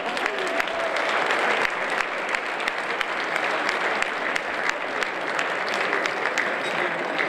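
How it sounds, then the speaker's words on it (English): Sustained, dense applause fills a hall at a powerboat racing awards gala, loud and even throughout with scattered sharp claps. "And since she's a woman, another applause."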